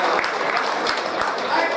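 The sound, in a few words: audience applause for outgoing festival queen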